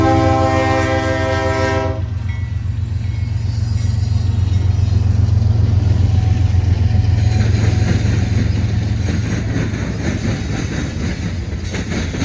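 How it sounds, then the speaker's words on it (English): A freight grain train rumbles past up close at the Iron Triangle Railpark in Fostoria, Ohio, with a long, loud horn blast at the start, followed by steady rolling noise and clattering cars. "we see our only grain train of the entire day."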